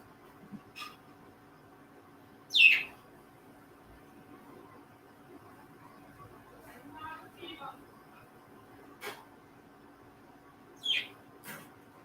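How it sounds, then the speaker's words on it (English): Pet birds indoors give a few sharp, scattered chirps and squawks spaced several seconds apart against a quiet room, moderately close, with faint low murmurs between calls. "Got the peanut gallery acting up here with the birds."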